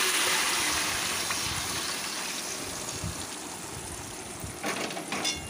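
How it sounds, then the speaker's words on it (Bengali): Vegetable broth poured into a hot pan of tempered vegetables gives a loud rushing, bubbling wash that slowly fades to a steady simmering hiss, with a few clinks near the end. "এর মধ্যে দিয়ে দিচ্ছি সবজি ঝোলটা"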